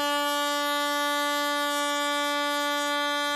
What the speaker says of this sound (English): They resorted to blasting the flying foxes with foghorns to drive them away